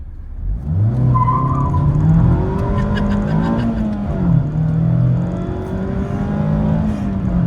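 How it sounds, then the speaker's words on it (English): A 2024 Mazda MX-5 Miata (ND3) in DSC track mode pulls away from a stop and slides its tail out. The engine revs loudly and steadily up close, mixed with rough tire noise, and no one talks. "But you can still get the tail out in this vehicle if provoked"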